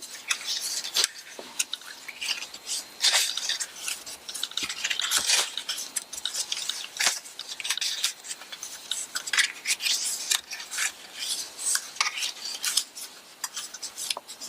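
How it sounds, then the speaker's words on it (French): Paper being creased and scored along fold lines for a hexagonal paper box: close, dry rubbing and scraping strokes, repeated irregularly, with occasional sharper crinkles and taps. "vous pouvez donc marquer les plis"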